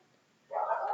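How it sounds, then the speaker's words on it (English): A dog outdoors gives a single short, muffled bark or yelp from a distance, following a moment of near silence. "I need to check the dog outside. He's kind of distracting."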